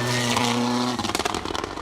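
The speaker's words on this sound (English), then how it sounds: "You hear the popping and banging of the anti-lag system on that Escort Cosworth" Ford Escort Cosworth 4WD rally car on a stage of the Border Counties Rally 2023, a loud engine drone that breaks into rapid, irregular anti-lag pops and bangs.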